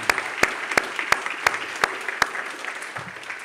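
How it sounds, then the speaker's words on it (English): Applause from an audience at a design conference, with several sharp, distinct claps standing out close by over the broader clapping, which tapers off toward the end. "could I just please have another round of applause for all the speakers today?"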